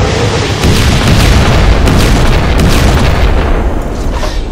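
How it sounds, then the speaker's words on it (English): Missile explosions in a Plants vs Zombies mod video game, a continuous roaring barrage of booms and blasts, very loud and sustained for several seconds with no talk. "He can shoot missiles?"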